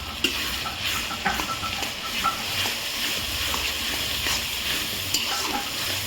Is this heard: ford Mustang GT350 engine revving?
no